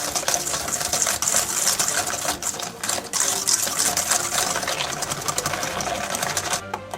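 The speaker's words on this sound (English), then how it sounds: "I'm going to use that with the whisk to the sugar dissolve in with the oils and the egg." Rapid, steady whisking of granulated sugar with oil and egg in a bowl, a dense continuous metallic rattling that runs close and loud for the whole stretch with no voices.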